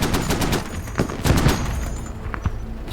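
Rapid bursts of gunfire in the game Squad crackle in quick succession, with heavier booming shots mixed in, loud and close.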